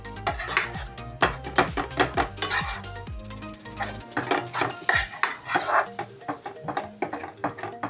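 Raw hand-minced kitfo beef being stirred and mixed in a metal pan, with a busy run of clinking utensil scrapes and clatters close to the mic and no voices.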